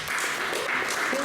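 An audience claps steadily throughout a brief moment at a spring community gathering, a continuous wash of many hands with no pauses.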